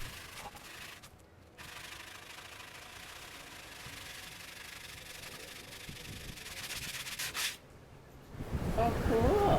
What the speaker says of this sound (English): Shape a flat piece of sandpaper around your fingers to match the curvature of the perimeter,